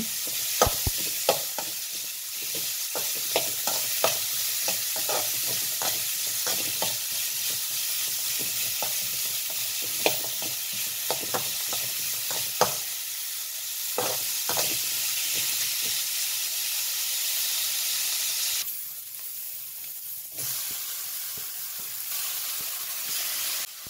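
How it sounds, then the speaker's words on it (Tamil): Onions, garlic and green chilies sauté in a pan under a loud, continuous hissing sizzle, with frequent close spoon scrapes and clicks as they are stirred; the sizzle drops briefly near the end, and no one speaks. "வெங்காயம் கட் பண்ணி வச்சு எல்லாத்தையும் போட்டுவிட்டேன் போட்டு நல்லா கிண்டி கிளறி விட்டுருங்க"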